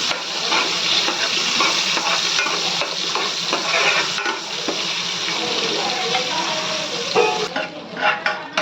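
Steady, dense sizzling of onions frying in hot oil with cumin and mustard seeds, loud and close, with light stirring scrapes throughout and a brief easing near the end.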